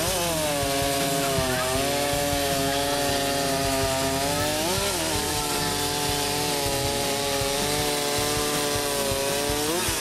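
Racing chainsaw cutting through wood, a loud, sustained high-revving two-stroke whine with slight pitch wavers as the chain bites, continuous and close throughout.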